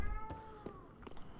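A pet cat meows several times nearby, short plaintive cries rising over faint background game sound.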